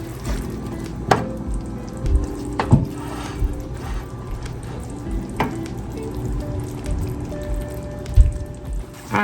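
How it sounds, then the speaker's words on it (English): Onions simmer in a pan with water, a soft continuous sizzle and bubbling, broken by a few sharp clinks of a utensil against the pan. "I'm going to let mine simmer until the onions cook all the way down."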